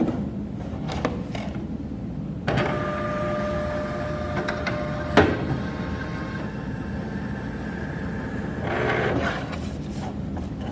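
A Creative Sensation Pro embroidery machine calibrates after a restart, making a steady mechanical whir with whining motor tones, a few clicks and one sharper knock. It is moderately loud and heard alone.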